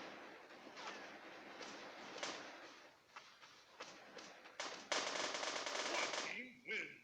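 Gunfire in Counter-Strike during a sniper fight, with a series of sharp shots, a sustained burst near the end and some background game noise.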